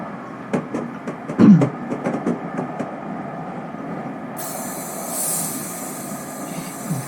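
Pacific Surfliner train running southbound toward San Diego in Train Simulator 2021, with rhythmic wheel clicks over rail joints and a brief squeal, then a steady rumble and hiss as the run continues.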